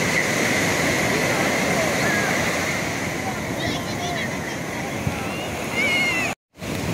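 Rough sea at Puri, heard from a boat in light drizzle, makes a continuous loud rushing roar that fills the whole stretch and cuts out briefly near the end.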